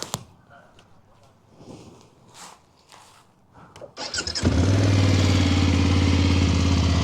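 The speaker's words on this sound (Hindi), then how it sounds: "बाइक मैंने स्टार्ट कर ली है" A BMW F 800 GS motorcycle engine cranks and catches after quiet outdoor shuffling, then settles into a loud, steady close-up idle with a rhythmic throbbing rumble.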